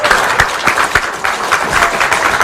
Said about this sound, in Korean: 우리 사무처 당직자들과 보좌진 여러분들의 감사의 박수 한번 드리겠습니다.